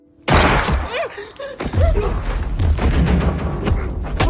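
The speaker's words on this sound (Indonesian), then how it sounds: "Tanpa pikir panjang dengan skill tembakan jitu yang diajarkan Bang Ridwan gurunya Jindan" A sudden loud burst of gunfire in a film bursts out, followed by booming impacts and chaotic clatter, with voices mixed in among the noise.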